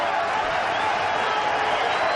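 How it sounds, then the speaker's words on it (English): A packed cricket stadium crowd at the 1999 Sharjah Cup India versus Pakistan match roars after a six, a loud, dense and continuous wall of cheering and clapping that never lets up. "Crowd's enjoying every bit of it."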